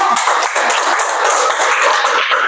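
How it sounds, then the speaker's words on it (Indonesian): Children in a classroom clapping together, a steady, continuous wash of many hands applauding with no pauses and no talk over it. "Oke, tepuk tangan ya"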